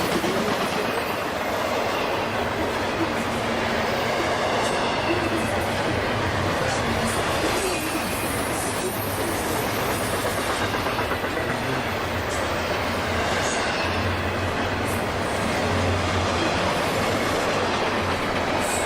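A long freight train hauled by ES44 and AC44 locomotives rolls past with about 2,700 feet of mostly double-stack container cars bound for Tampa, giving a steady, loud rumble with clickety-clack wheel beats and no pauses throughout.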